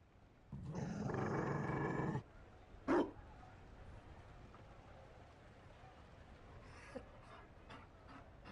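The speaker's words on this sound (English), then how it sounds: "You found a dog? They don't breed Mabari in Olay." A Mabari war dog in Dragon Age Inquisition lets out a long growling roar, followed by a sharp bark and a few softer panting huffs and snuffles, close and clear.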